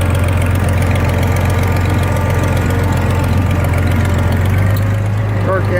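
An IHC Farmall 460 tractor engine runs steadily at idle with a loud, close, continuous low rumble and even knock, a voice speaking briefly over it.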